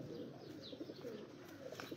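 Pigeons coo low and soft on a rooftop loft, a continuous murmur of calls blended into a steady background of other birds chirping faintly, no voices present.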